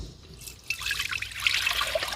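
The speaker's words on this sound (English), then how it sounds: "get a strainer and another bowl over here and pour it all in it" Buttermilk from homemade butter pours through a strainer into a bowl, giving a steady close trickle and dribble of liquid with small drips that grow slightly louder partway through.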